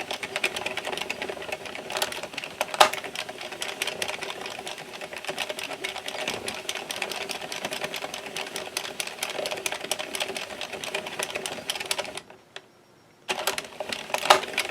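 A domestic knitting machine carriage runs back and forth across rows of a twisted headband, giving a steady, dense clatter of rattling needles that stops briefly for a near-silent pause before resuming.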